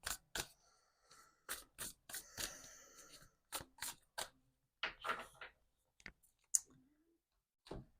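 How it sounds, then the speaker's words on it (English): Tarot cards are shuffled by hand: crisp, close snapping and riffling bursts in irregular clusters, separated by short silences, with a couple of small sharp clicks and a faint low murmur near the end. "Give them a shuffle."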